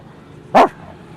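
A voice imitates a dog's bark on stage, one sharp, loud yelp-like bark standing alone against quiet background hum.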